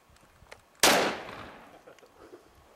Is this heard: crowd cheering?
no